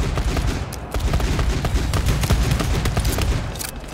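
Sustained machine gun fire in the video game GTFO, a dense rapid stream of loud close shots rattling without pause for nearly the whole stretch, with heavy low thump under the crackle.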